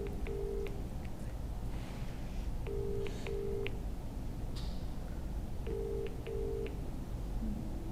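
A phone call placed on speakerphone: faint repeated double ringback tones sound at steady intervals over a low background hum.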